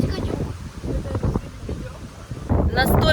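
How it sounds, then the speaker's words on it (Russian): Strong wind buffets the microphone on a Black Sea beach at Lebedevka, a continuous rough roar with gusts swelling louder near the end, under a voice talking throughout. "Настолько сильный ветер на пляже"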